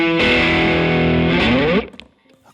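A distorted electric guitar chord rings out through an amplifier, picked up by a microphone, holding loud and sustained for under two seconds before being cut off and fading.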